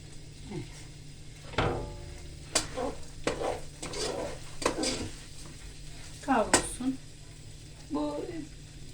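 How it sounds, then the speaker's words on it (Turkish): Köfte meatballs sizzle in a hot frying pan, with bursts of spattering and scraping of a utensil against the pan, while a person talks intermittently over the cooking. "Şöyle köftelerimi şurada kızartayım."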